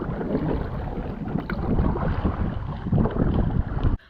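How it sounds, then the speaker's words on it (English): Kayak paddling on the sound at the Outer Banks: a steady wash of water and wind noise for about four seconds, with no talking, then an abrupt drop near the end. "my dad and I were kayaking in the Sound, and it was so pretty"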